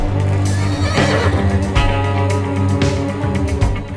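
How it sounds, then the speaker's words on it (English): Horses in a horse barn on an equestrian estate neigh and whinny loudly and close by, with several overlapping calls and occasional hoof clops and no talk. "The horse barn here on Margerstadt is truly worthy of envy."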